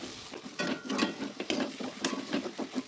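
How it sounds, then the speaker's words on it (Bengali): Potatoes with garam masala stirred in a pan for a sandwich filling, soft scraping strokes and light sizzle repeating every half second or so, fairly quiet. "তো এটা দেওয়ার পর আমি একটু ভালো মতন আবার একটু নেড়ে নেবো"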